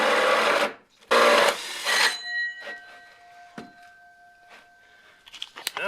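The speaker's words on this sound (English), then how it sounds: "And we can drill another hole." A drill bit boring a hole in wood on a house build for plumbing, heard as two loud, close whirring bursts, followed by a quieter tonal hum and light clatter.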